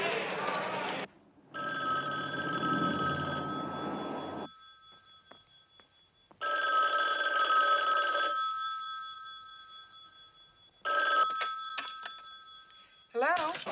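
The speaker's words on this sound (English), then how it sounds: "Hey, Joe, use the phone" An old telephone bell rings in bursts with gaps of silence between them, repeating several times, clear and fairly close, in a crime drama scene set in Las Vegas.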